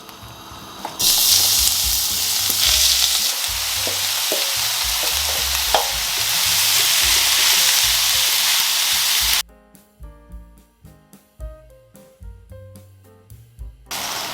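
Seasoned mince meat hits hot olive oil in a pan, setting off a loud, dense sizzle with stirring clatter for about nine seconds, then cuts to quieter sounds.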